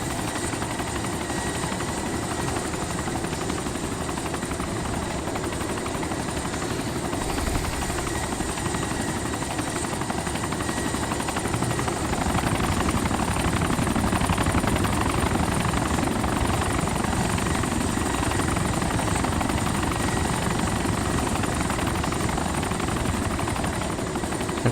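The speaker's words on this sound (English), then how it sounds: "There's a chopper in distress about to crash." A Black Hawk helicopter in ARMA 2 DayZ drones steadily overhead, a dense continuous rotor and engine roar that stays loud and unbroken throughout, with no voices.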